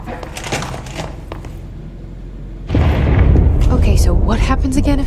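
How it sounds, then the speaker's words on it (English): A sudden loud explosion in the video game Control bursts in partway through, a deep booming blast that stays heavy and rumbling after earlier quieter game sounds and talk. "Explosion."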